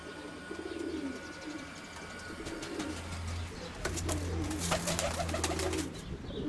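Pigeons coo in an aviary, with soft, rounded calls rising and falling in repeated phrases, close by over a quiet background with occasional light rustles.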